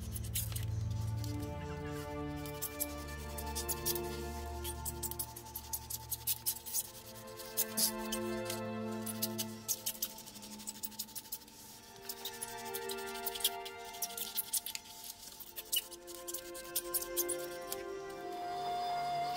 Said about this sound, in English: Using my knife, I cut away the bulky corners